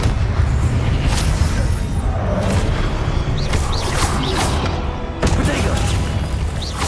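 A Confringo blasting spell explosion amid Hogwarts Legacy spell combat: a loud, continuous wash of booms, whooshes and bursts with a sharper crack near the end, with voices mixed in.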